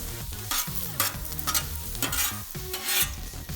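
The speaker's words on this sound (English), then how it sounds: "The onions are getting some color," Onions fry on a Blackstone flat-top griddle, a steady loud sizzle broken by repeated scraping and stirring strokes of a spatula across the steel, with no voices.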